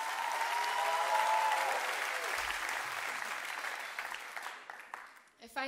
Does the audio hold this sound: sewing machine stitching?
no